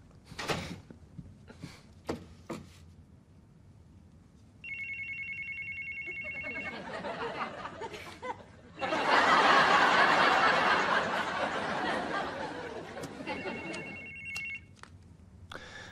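Telephone bell ringing in a German radio play, repeated trilling rings at moderate distance, then swelling into a dense, loud ringing burst that fades with short rings at the end, no voices.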